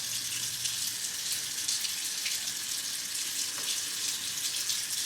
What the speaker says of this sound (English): Then I go in and rinse this towelette again.